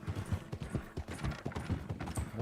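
A horse's hooves clip-clop at a steady trot in Red Dead Redemption 2, with close, even thuds repeating quickly throughout.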